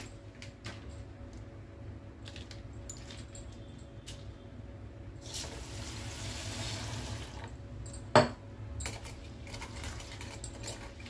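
Soaked lentils (dal) are rinsed by hand in water, giving soft, faint sloshing and splashing with light clinks and one brief sharper knock partway through, and no talk.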